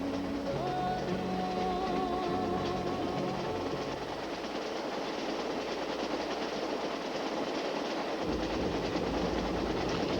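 A passenger train running through Canada, heard as a steady loud rolling rumble with rhythmic wheel clatter and a brief tonal hum early on, continuous for the whole stretch.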